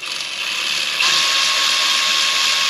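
A ratchet tightens the E10 bolts on a V6 valve cover, giving a continuous close mechanical whir and clicking that grows a little louder partway through. Nobody talks.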